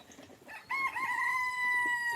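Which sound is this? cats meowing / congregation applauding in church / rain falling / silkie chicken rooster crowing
silkie chicken rooster crowing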